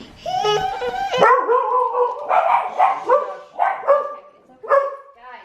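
Several dogs bark, yip and howl close by in a loud, overlapping chorus of repeated bursts.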